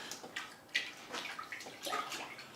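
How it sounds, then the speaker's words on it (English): Nano Magic tape is swished around in a bucket of water, giving soft, irregular splashes and sloshing sounds, faint and close. "Now let's get our bucket of water, wash it off, and put it back on the bricks."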